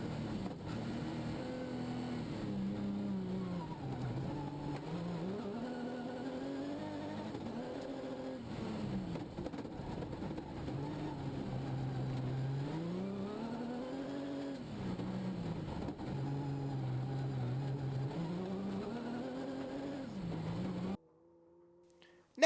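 A powerful rally car at Walters Arena, round 8 of the 2019 AWDC, drives on a slippery track. The engine revs rise and fall in long repeated swells, staying steady and close until it cuts off near the end.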